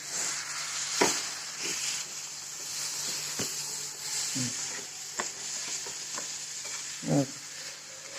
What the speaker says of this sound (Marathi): आता हे चांगलं हलवून घेते एक जीव करून घेते